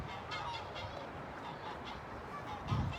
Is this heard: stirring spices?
no